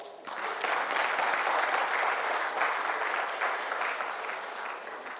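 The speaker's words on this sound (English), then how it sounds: "please give me a huge round of applause" A conference session audience applauds in a dense, sustained wash of clapping that starts abruptly and fades slightly over about five seconds, with no speech on top.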